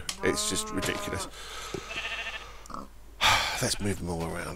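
Sheep in Minecraft bleat in short wavering cries near the start, mixed with someone talking over them throughout.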